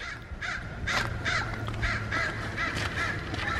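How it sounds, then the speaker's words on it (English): Crows caw outdoors at Monterey Bay, a steady run of about eight rhythmic, harsh calls carrying clearly over low background rumble and wind. "Oh, that's a pretty bird up there."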